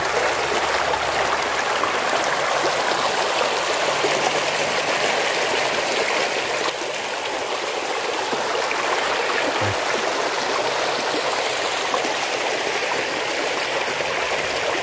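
The remaining flow of the Citanduy river at Bojong Salawe rushes steadily as a constant, broad watery hiss and gurgle. It continues without a break for about fifteen seconds, with no voices over it.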